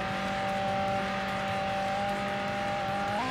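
Race car engine in Need for Speed: Hot Pursuit 2 drones at a steady high pitch throughout, rising slightly near the end, loud and continuous with no talk over it.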